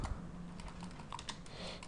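Quick, fairly quiet keystrokes on a computer keyboard, an irregular run of close clicks and taps with no talking.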